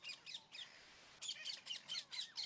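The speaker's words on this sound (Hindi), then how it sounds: "ये तोते होते हैं भाई" Parrots call in quick bursts of shrill, high chirps and squawks, a short flurry, then a pause, then a longer run of repeated calls, fairly faint and at a distance.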